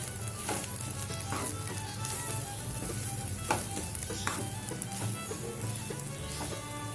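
Mint corn rice is stirred in a hot pan, with a steady sizzle and fry under repeated scraping strokes of the spoon against the pan, close and continuous throughout.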